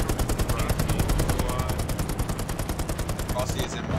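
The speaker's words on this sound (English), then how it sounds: "There's an MG right in front of us." Rapid bursts of machine gun fire from a battle in the Hell Let Loose video game, a steady close stream of evenly spaced shots running several seconds with speech faintly underneath.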